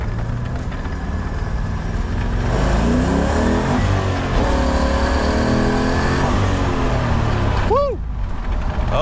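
A 1967 Corvette with an LS3 engine and Tremec manual gearbox revs hard in first gear, a loud, close engine roar that climbs in pitch over several seconds before a sharp shift near the end.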